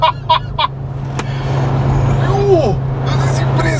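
A big-turbo Volvo S60R accelerates hard in third gear, its engine and road noise building into a loud, steady roar after a few short bursts of voices at the start.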